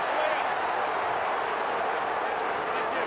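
A large stadium crowd at an AFL match between Carlton and Greater Western Sydney, roaring steadily in a dense, loud, continuous wash of voices with no single speaker standing out.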